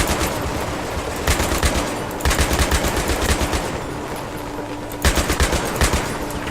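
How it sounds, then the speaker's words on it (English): A .50 caliber machine gun firing in Battlefield 3: loud, rapid bursts of automatic fire in several sustained strings, with short pauses between bursts. "a 50 cal like this would actually tear somebody apart"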